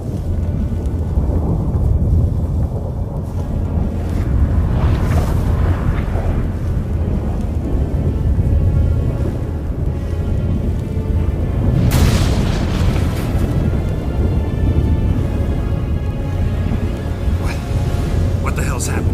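Thunder booms and rumbles through a storm in The Witcher 3 video game, heavy low blasts and wind roaring loudly for many seconds, with characters talking over it.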